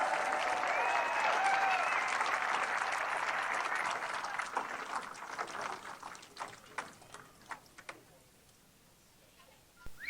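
A crowd applauds loudly and steadily, then the clapping thins into scattered, fading claps over several seconds before ending.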